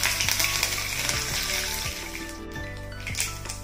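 Curry leaves and a pinch of asafoetida with chopped pieces sizzle steadily in hot oil over a medium flame, a tempering for raw tamarind chutney. The frying is close, continuous and loud, with no talking.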